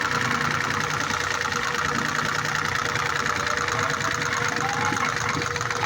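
Pressure washer motor running under load with the pressure pulled, a steady droning hum with a rough, strained texture that holds constant and fairly loud throughout.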